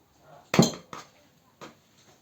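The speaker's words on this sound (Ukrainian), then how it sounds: "Ось так розмішуємо муку" A few soft scraping knocks of a utensil against a bowl of flour, three distinct strokes with quiet gaps between them.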